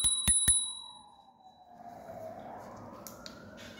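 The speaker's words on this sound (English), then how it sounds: "It does have a bell." Bell on a Turboant V8 electric scooter rings three times in quick succession, sharp metallic dings up close, followed by a faint whine and low background noise.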